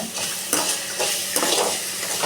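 Hot oil crackles and sizzles steadily in a pan as spices are tempered for rasam, with a few soft stirring scrapes and clinks; no talking.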